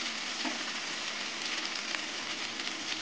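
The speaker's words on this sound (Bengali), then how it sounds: "এবার মশলাটা কিছুক্ষণ কষিয়ে নেবো।" Ground cumin and coriander spices fry in oil for a prawn curry with banana flower, giving a steady, close sizzle and hiss with no talking.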